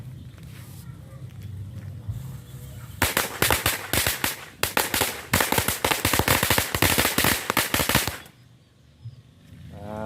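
Bundles of firecrackers, about 130 petasan lit together, burst in a dense, loud crackling barrage for roughly five seconds after a quieter lead-in, then cut off sharply, leaving background noise and a faint voice.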